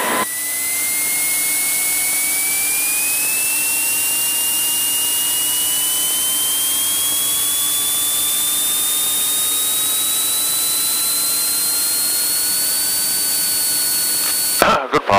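Mooney Ovation aircraft engine on the takeoff roll: a loud, steady, close roar with a whining tone that climbs slowly in pitch as power builds, running continuously before cutting off abruptly at the end.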